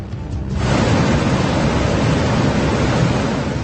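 A flooded river in Uttarakhand roars through the hills during heavy rain, a loud, steady rushing wash that swells in after a brief quieter moment and holds without a break.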